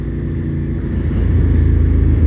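A Suzuki TL1000R sport motorcycle's V-twin engine idles with a deep, throbbing rumble that swells slightly louder and rougher partway through, close and loud.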